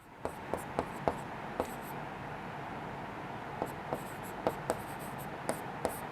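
Writing out an answer, probably on a board during a class lesson: a run of sharp taps and short scratches in irregular clusters over a steady background hiss, with a pause in the middle.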